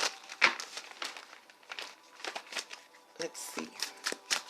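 Tarot cards shuffled by hand in a series of crisp riffling and slapping bursts, close and moderately loud, interleaved with a voice speaking.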